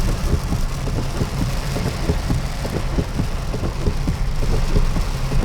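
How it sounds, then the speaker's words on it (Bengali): Heavy rain pours onto a jammed road on the bypass near Chingri Ghata, toward the flyover by ITC Sonar Bangla, with low idling engine rumble beneath a steady, dense downpour hiss that carries on throughout. "বৃষ্টি হু হু করে আসছে, ঝমঝমিয়ে বৃষ্টি পড়ছে"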